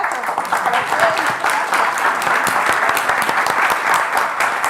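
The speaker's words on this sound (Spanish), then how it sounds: "quiero pedir otro aplauso, en realidad, para los chicos que están acá" An audience at a science café talk applauds in a steady burst of clapping that holds for several seconds, dense and close, with no break.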